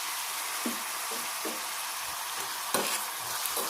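Quiet, steady sizzle of chopped green chillies frying with onions, with a few soft stirring scrapes against the pan.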